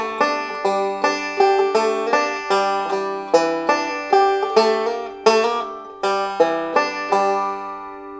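Bluegrass banjo fill-in lick in JD Crowe style, played alone: bright, quickly picked rolling notes in short phrases with brief pauses, clear and close with ringing decay.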